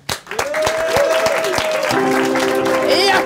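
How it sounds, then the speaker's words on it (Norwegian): An audience clapping on request, starting with a few separate claps before building into steady applause, with voices talking and humming over it. "OK, klapp en gang til."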